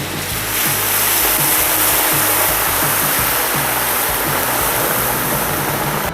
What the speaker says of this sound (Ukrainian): І буквально через 5 хвилин я додаю в казан воду.